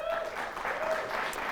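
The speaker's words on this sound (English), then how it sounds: "We got cheering and woos for the Cardinals" A crowd cheers and whoops for the Stillman Valley Cardinals at a school quiz-show event, a short burst of applause with voices mixed in.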